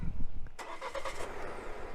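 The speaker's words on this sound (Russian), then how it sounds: "Мы можем завести автомобиль с помощью штатного брелока" A Geely Monjaro starts remotely from its key fob, the engine catching with a sudden burst and then settling into a steady idle, heard fairly close and moderately quiet after a brief murmur of background voice.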